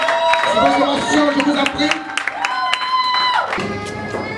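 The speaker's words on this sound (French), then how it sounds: "Applaudissements, applaudissements." A wedding congregation at a religious ceremony breaks into applause and cheering, a lively crowd wash with shouts and voices mixed in, loud and close, while someone speaks over it.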